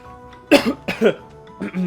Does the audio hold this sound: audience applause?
no